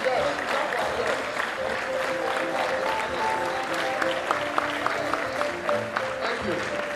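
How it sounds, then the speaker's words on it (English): A standing audience claps for parents at a swearing-in ceremony, steady applause filling the hall throughout, with a voice speaking over it. "Let us stand up and clap for our parents."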